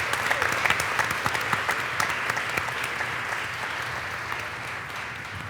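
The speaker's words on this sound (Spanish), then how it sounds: "vamos a motivarles con un fuerte aplauso" Strong, sustained applause from a seated audience at a children's panel event before the Inter-American Court of Human Rights, dense clapping held steady throughout with a slight fade toward the end.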